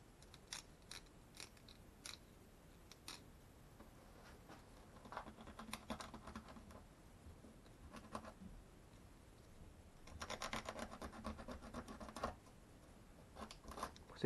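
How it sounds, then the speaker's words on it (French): The edge of a round part is sanded by hand: faint, intermittent rasping strokes mixed with light clicks, growing into a denser scratchy burst partway through before easing off. "On va poncer un peu tout ça"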